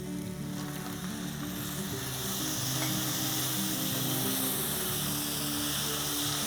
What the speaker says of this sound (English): now I'm adding my tomatoes